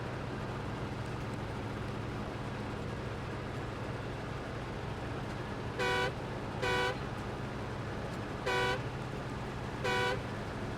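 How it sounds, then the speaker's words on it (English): Four short, evenly spaced car horn honks in the off-road driving game SnowRunner, sounding clearly over a steady low engine rumble with no talk. "That sounds like a car horn."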